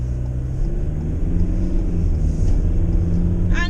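Ford Transit MS-RT van accelerating, a steady low engine drone heard from inside the cabin that rises slightly as it pulls, with continuous road rumble and no talk.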